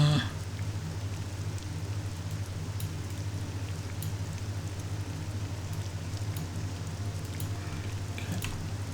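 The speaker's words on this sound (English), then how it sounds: "The rain is nice, we can actually bring up the volume again on it." Steady rain falls in The Elder Scrolls III: Morrowind as a constant even hiss over a low ambient hum, with no talk.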